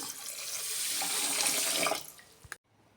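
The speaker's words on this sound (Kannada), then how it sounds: "ಎರಡು ಗ್ಲಾಸ್ ಆಗುವಷ್ಟು ನೀರು ಸೇರಿಸ್ಕೊಬೇಕು" Water pours in a steady, close stream onto sugar for about two seconds, then tapers off, followed by a brief knock and near silence.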